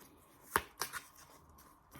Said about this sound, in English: So giving this part of my deck a shuffle,